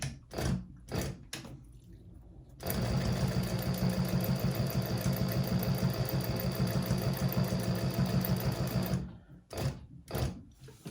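A sewing machine runs steadily for about six seconds, basting a handbag lining close to the edge. The motor hums with a fast, even stitching rattle, and short handling noises come before and after the run.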